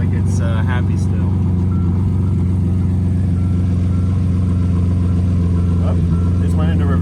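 A Lamborghini with a fault idles with a steady low drone and throbbing hum, staying even as it is put into gear, with someone talking faintly over it.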